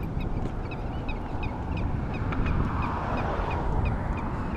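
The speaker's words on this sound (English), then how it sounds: "A lot of seagulls" Seagulls and other birds calling repeatedly along a shoreline in South San Francisco, their honking cries rising over a loud, steady wind and surf roar.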